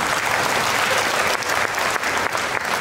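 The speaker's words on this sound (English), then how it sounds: "please give him a round of applause" A crowd applauding steadily, dense clapping throughout with no voices over it.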